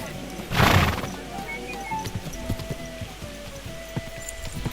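A horse in the video game Kingdom Come: Deliverance II gives one loud whinny, followed by a scattering of hoof clip-clops and faint background sounds.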